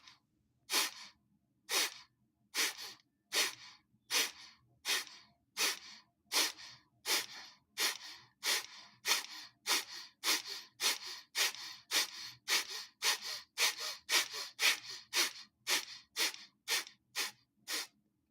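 Deep breathing exercise with long, slow inhales and exhales, about two dozen evenly spaced breaths in a steady rhythm, close and fairly loud with no talking over them.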